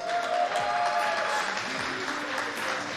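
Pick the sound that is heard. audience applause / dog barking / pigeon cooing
audience applause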